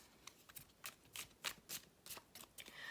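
Tea leaf oracle cards are shuffled and drawn, giving quick, close riffling bursts and soft papery snaps in an irregular rhythm, quiet and heard alone.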